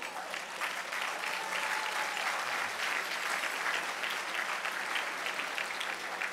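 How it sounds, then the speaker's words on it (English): Audience applause at a State of the City address as members of a class stand to be recognised; steady, fairly distant crowd clapping that holds an even level throughout without a clear start or finish. "would you please stand up and let us give you some applause"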